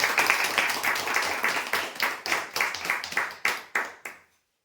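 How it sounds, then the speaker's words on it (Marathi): A crowd applauds a prize-draw winner with steady, dense clapping that rises briefly, then thins into a few fading bursts and stops. "जोरदार टाळ्या होण्यासाठी."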